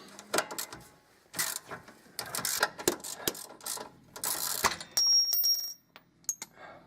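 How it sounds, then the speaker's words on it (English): A 17 mm socket wrench ratcheting a coilover perch out on a Nissan 350z, bursts of rapid metallic clicking at close range, then a short high ringing tone near the end, with no speech. "grab a 17 millimeter socket, 17 millimeter wrench, and back it the rest of the way out"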